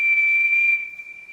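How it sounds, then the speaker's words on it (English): Percy the tank engine's steam whistle blows one long, loud, steady note that holds strong and then tails off softer toward the end, with no talk over it. "Percy blew his whistle long and loudly."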